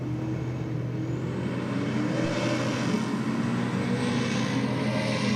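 A Datsun drag car leaves the start line with a loud, steady engine roar that builds slightly as it pulls away, heard from a distance with no voices.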